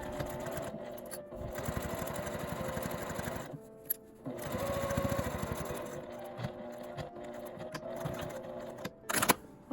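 A sewing machine stitches a seam on a fabric tent pouch, its rapid mechanical chatter running in close bursts with brief pauses between runs, fairly loud and alone.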